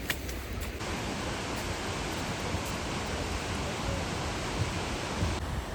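The Gljúfrabúi waterfall in Iceland roars as a steady, broadband rushing of falling water, constant and moderately loud with no voices over it.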